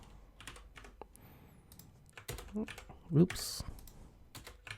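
Fast clicking keystrokes on a computer keyboard during a web design session, close and crisp, with a brief spoken word partway through.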